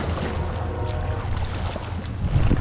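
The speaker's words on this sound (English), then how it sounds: "Hell yeah, this wind is so strong." Strong wind buffets the microphone while paddling a raft on a windy lake, a loud, continuous low rush with gusty surges and faint water movement.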